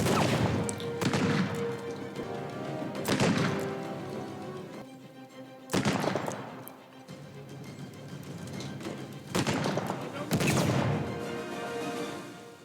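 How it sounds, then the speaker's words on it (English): Heavy Barak 44 Magnum shots in Uncharted 4, four loud, widely spaced booming blasts with ringing tails over a steady background of game ambience. "I get the Barak 44 Magnum here and waste the last few enemies."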